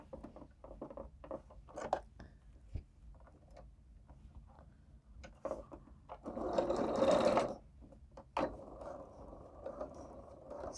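A sewing machine runs a straight stitch and back stitch along the pinned fabric edges of a palazzo being turned into a dress. Close, steady mechanical whirring comes in short bursts, with one longer, louder run near the end.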